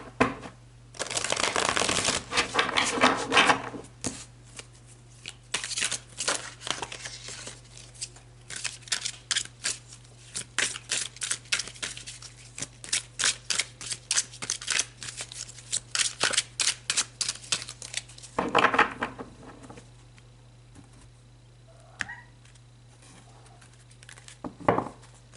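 Tarot cards are shuffled in loud riffling bursts, followed by a long run of quick, crisp card flicks as they are handled and pulled, ending with another brief shuffle and quiet handling.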